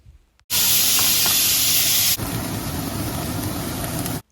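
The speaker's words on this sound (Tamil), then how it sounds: "எண்ணெய் காஞ்சதும் இதில் வெங்காயம்" Onions dropped into hot oil for rajma masala, an abrupt loud sizzling hiss that holds steady and close, easing slightly after a moment, with no talking.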